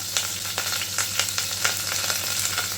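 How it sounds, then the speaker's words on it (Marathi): Cumin seeds, green chillies and curry leaves sizzle hard in hot oil in a pan for samo rice, a steady loud crackle with regular stirring scrapes every half second or so, no voices. "जिरं आपला तडतडला आहे तर हिरवी मिरची टाकूया थोडासा कढीपत्ता"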